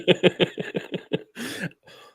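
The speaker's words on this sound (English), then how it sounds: "If I cough one more time" A cluster of quick, hoarse coughs in a fast run, followed by a longer rasping breathy burst, close to the listener.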